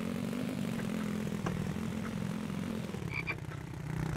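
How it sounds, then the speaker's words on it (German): Frogs croak in a steady, continuous chorus in the survival video game The Infected, a dense low pulsing drone with a few higher chirps near the end, no talk. "Ja, Frösche. Okay, die haben wir immer hier."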